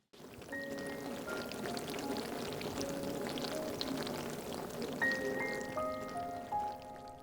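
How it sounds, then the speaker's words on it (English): Makgeolli fermenting in an old earthenware jar gives off a dense, continuous fizzing and crackling of bursting carbonic acid bubbles, close and steady like light rain, with tiny pops scattered throughout. "This is the sound of carbonic acid being released during fermentation."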